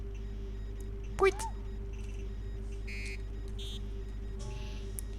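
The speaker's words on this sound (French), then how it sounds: "Les écrans qui font bip bip de tous les côtés." Electronic screens in the video game Paper Mario: The Thousand-Year Door give off a few short, scattered beeps and bleeps over a steady low hum, with a brief sweeping tone early on.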